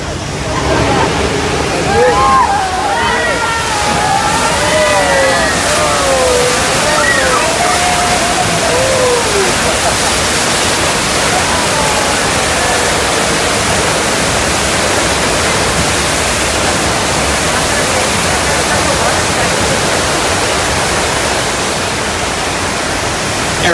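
A loud, constant roar of rushing water and rumbling from a simulated earthquake on a theme park ride at Universal Studios Hollywood fills the space, with crowd voices and shrieks briefly rising over it early on.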